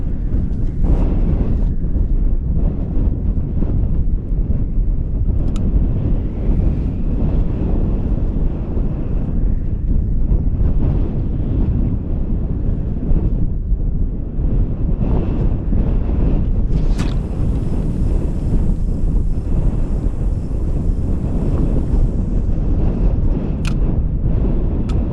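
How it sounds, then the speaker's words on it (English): Strong coastal wind buffets the microphone continuously at a sea fishing spot, a loud unbroken roar with faint higher whistles, and no one speaking. "Hear that wind."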